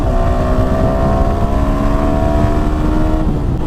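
A motorcycle engine labors steadily up a climb, a loud continuous drone held close with the motor under load and no letup, without any voices.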